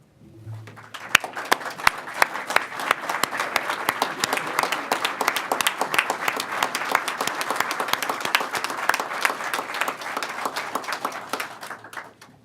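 A crowd at a university basketball head coach introduction stands and breaks into sustained applause, many hands clapping steadily for several seconds before tapering off near the end.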